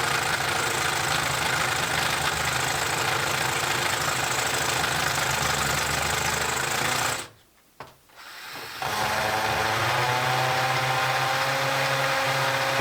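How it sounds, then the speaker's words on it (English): A drill grinds steadily inside a cave, a loud continuous mechanical whine with a rough rumbling edge that cuts out for about a second and a half before resuming at a slightly different pitch. "That noise, that fucking drill must be so loud in that cave"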